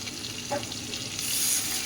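Soft sizzling of ginger paste and tomato frying in a pan, with a faint stir partway through and the sizzle growing slightly louder toward the end.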